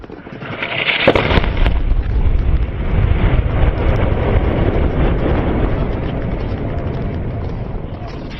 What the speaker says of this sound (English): The F-16 rolled right over the top of the enemy, dropping a 500-pound bomb right on their heads.